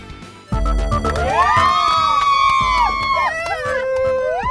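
People on a fishing boat celebrate a catch with loud, sustained whooping and cheering voices that rise and glide in pitch. The cheering lasts for several seconds, close and dominant, over wind and boat noise.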